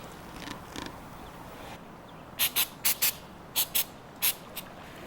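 Short, sharp hissing bursts of accelerator sprayed onto super glue during an antique sewing machine restoration, about eight quick puffs in close succession, loud and near with no talking.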